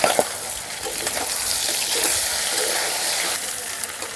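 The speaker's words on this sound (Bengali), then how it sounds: "মশলাটা বাটতে বাটতে মাছের মাথাটা অনেকটাই ভাজা হয়ে গেছে" A large aar fish head frying in oil gives a steady, close, broadband sizzle that continues without a break.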